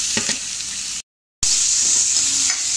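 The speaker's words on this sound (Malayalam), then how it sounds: "ഇനി ഇതിൽ നമുക്ക് നമ്മുടെ ഉള്ളി ചേർക്കാം." Chopped onion goes into a hot pan while making an onion paratha, and a steady hiss of frying fills the clip with soft stirring scrapes. A brief total dropout falls in the middle.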